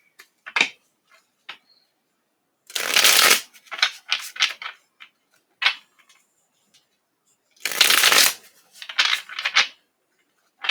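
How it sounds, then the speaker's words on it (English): Tarot cards are shuffled close up in quick riffling bursts, two long crisp runs separated by scattered taps, flicks and small handling clicks, with no talking over them. "I like to shuffle the cards in front of everybody so they can see"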